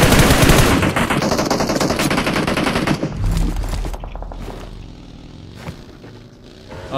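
Rapid automatic gunfire fills the first seconds of a PUBG Mobile tournament match, a dense loud burst that thins out into scattered, more distant shots and thuds.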